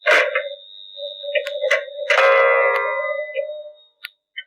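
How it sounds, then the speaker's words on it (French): A clock strikes one o'clock, a single ringing bell-like chime that sustains and decays, with a few faint ticks and clinks around it and brief soft taps at the end. "L'horloge sonna 1 fois."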